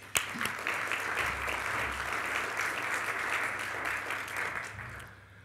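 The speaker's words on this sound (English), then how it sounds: "so a big applause to Chris" Sustained applause from a large conference audience at a lunchtime keynote, steady dense clapping that holds for about five seconds before fading out abruptly, with a sharp thump near the start.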